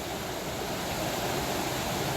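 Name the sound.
river current flowing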